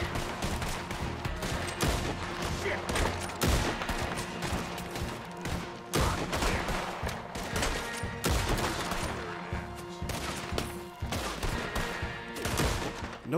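Red Dead Redemption 2 gunfight with rapid, continuous rifle and pistol shots and bullet impacts cracking nearby, dense bursts and single reports overlapping for the whole stretch.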